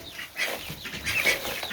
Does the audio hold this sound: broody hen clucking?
yes